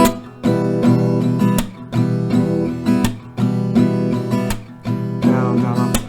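Acoustic guitar strumming a pattern in a down, down, up, clap rhythm, with bright full chords broken by sharp percussive claps in a steady repeating cycle, close and alone.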